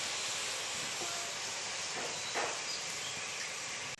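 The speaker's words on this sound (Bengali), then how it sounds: "গুড়টা ফুটে উঠেছে" Jaggery boiling in a pan produces a continuous, even hiss of bubbling syrup that stays at a steady level throughout.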